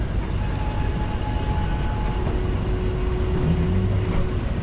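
A steady, dense rumble of a Leadville railroad tourist train rolling around Bird's Eye Curve in the Rockies, heard from aboard with even wheel noise and faint tonal hums throughout.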